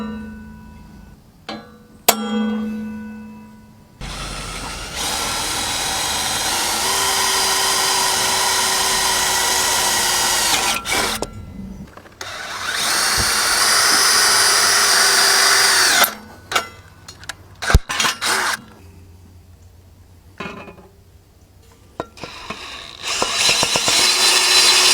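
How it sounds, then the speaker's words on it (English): A power drill bores mounting holes for an L MX installation in several bursts of whining, grinding drilling separated by pauses and clicks, with a few sharp knocks between runs. "So now we have all 4 holes drilled."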